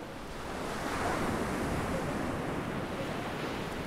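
Ocean surf rolling onto the beach at Assateague National Seashore in Maryland in mid-August, a steady broadband wash that swells in after a soft start and holds nearly level, with light wind across the microphone and no voices.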